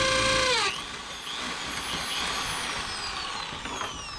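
A power drill bores a hole for the pillar trim on a 1993 Galloper. A short, loud whine spins down within a second, then gives way to quieter handling noise and faint rattles.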